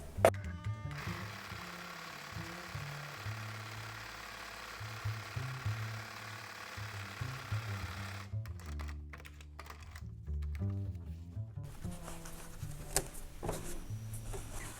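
A sewing machine stitching along a seam, a fairly quiet rapid mechanical whir and knock that speeds up and slows in bursts, with a brief pause midway.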